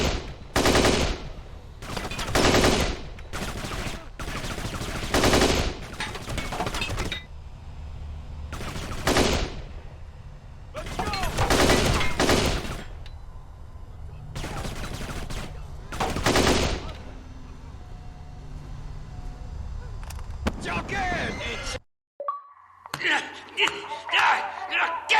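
Gunfire in Kane and Lynch 2: Dog Days on Xbox comes as loud, close bursts of automatic fire and single shots in irregular volleys with short pauses, ending in a brief clatter.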